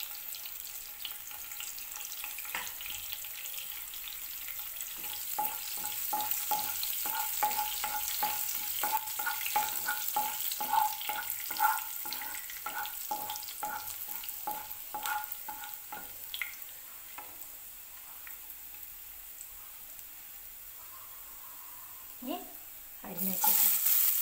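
Ginger and garlic sizzle in the same pan used earlier for roasting coconut, while a spatula scrapes and stirs in quick, irregular strokes up close; the frying hiss holds throughout and a voice briefly cuts in at the very end.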